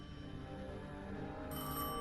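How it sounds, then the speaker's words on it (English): A telephone rings with a long-distance call, a sustained tonal bell ring that holds steady and brightens near the end, moderately faint, with no talk. "I knew if I didn't pick up that phone, I'd regret it for the rest of my life."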